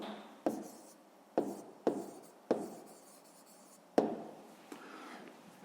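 A pen writes in a notebook with a handful of sharp taps and scratchy strokes, close and fairly quiet, with no talk.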